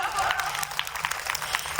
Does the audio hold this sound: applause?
yes